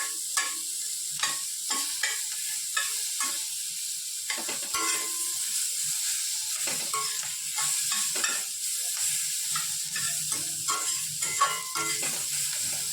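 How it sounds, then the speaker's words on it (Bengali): Onions fry in a pan of oil for an egg dinner dish, giving a soft sizzle broken by repeated scraping and clattering stirs up close, with no talking. "পেঁয়াজগুলো ভাজা হয়ে গেছে প্রায়।"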